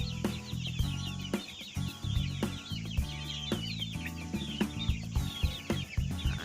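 Thai native chickens on a farm cluck and call repeatedly at close range, a busy flock of short rhythmic clucks with occasional louder squawks, fairly quiet overall and with no talking.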